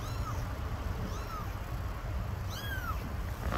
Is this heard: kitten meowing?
yes